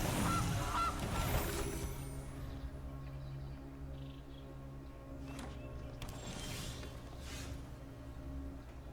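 A honking goose sound effect plays as the Gilded Goose card comes into play in Magic: The Gathering Arena. A few nasal honks sound over steady background game audio, and no one speaks.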